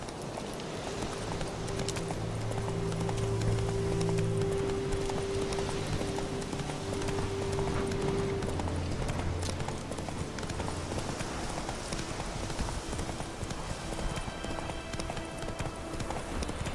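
Roach, the horse in The Witcher 3 video game, gallops with a continuous rhythmic clip-clop of hooves, close and steady throughout, over a low background bed.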